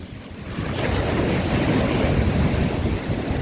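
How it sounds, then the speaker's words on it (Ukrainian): Sea waves wash steadily onto Langeron beach in Odesa after dark, a loud, continuous surf roar mixed with wind buffeting the microphone. "Такі хвилі, клас."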